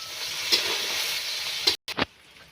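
Loud, constant sizzling of chopped onion and garlic paste frying in hot oil, with a couple of sharp utensil clinks and a brief cut-out near the end.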